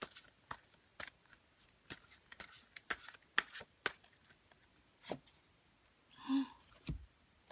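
Tarot cards being shuffled and drawn, with soft, scattered flicks and taps of the cards, close but quiet, and a brief murmur near the end.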